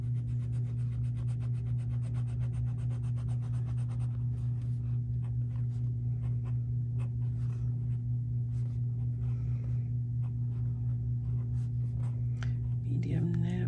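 A Pelikan M150 fountain pen with a medium steel nib scratches lightly across paper in soft, intermittent strokes, close but faint over a steady low hum.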